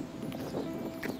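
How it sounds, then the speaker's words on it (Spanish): A horse walks with a rider mounted, its hooves clip-clopping in a soft, steady rhythm, close by but faint and without talk. "Volví a montar un caballo."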